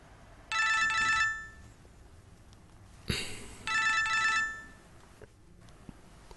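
A telephone rings twice in an indoor drama scene, two bright electronic trilling bursts of about a second each separated by a pause, with a soft knock between them and quiet room tone after.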